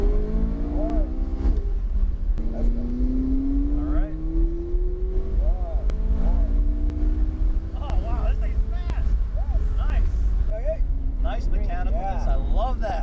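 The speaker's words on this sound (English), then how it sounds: "let's go ahead and try out the McLaren next and see how this bad boy handles" McLaren sports car driven hard around a racetrack, its engine note rising and falling through gear changes, loud and steady throughout, with voices talking over it.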